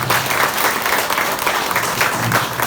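Brief burst of steady clapping from an audience at a training session, moderately loud and continuous for a couple of seconds with no talk over it.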